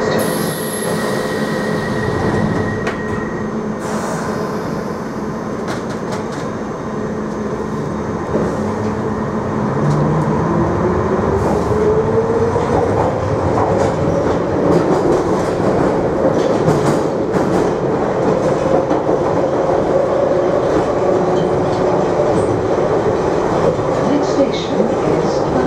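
A London Underground Piccadilly line 1973 stock train runs between King's Cross St Pancras and Cockfosters, with a loud steady rumble, rattling, clickety-clack and rising wheel squeal throughout.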